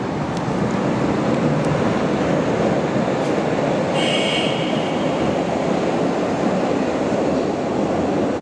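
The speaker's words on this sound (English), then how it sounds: "And this is now the train leaving." A Berlin U-Bahn train on line U55 pulls out of a station, a loud steady rumble of wheels and motors filling the platform throughout, with a brief higher whine partway through.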